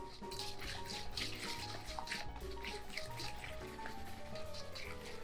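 A bread pudding mixture is whisked in a bowl, giving a soft, steady wet clicking and sloshing with a quick repeating rhythm, faint and close, with no talk.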